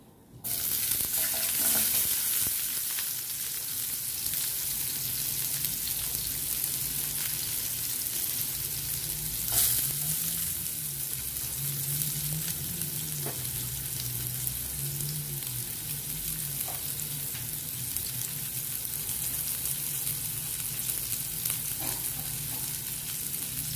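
Onion sautéing in cooking oil for a Filipino fish sarciado, a steady sizzling hiss with occasional stirring scrapes running continuously for the whole stretch, close and fairly loud, with no talking.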